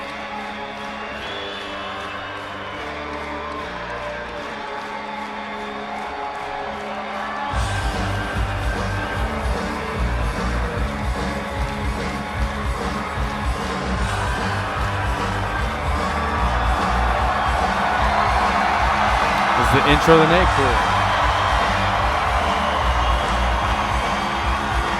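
Crowd at a Glastonbury concert cheering and roaring in a steady dense wash behind loud live music, swelling louder toward the end, with someone briefly talking over it.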